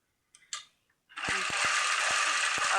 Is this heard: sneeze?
no